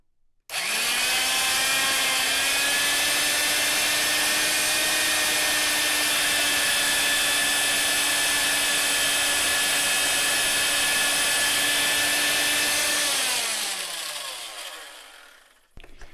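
A vintage Fein ASG 658 tapper spins up sharply and runs at a steady, loud, high-pitched electric whine for about thirteen seconds, then winds down with a falling pitch as it coasts to a stop.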